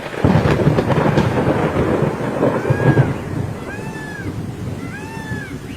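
Sudden rain and rolling thunder in a cartoon jungle, a dense, loud rumble that fades, followed by a few high bird-like or cat-like chirps over lighter rain.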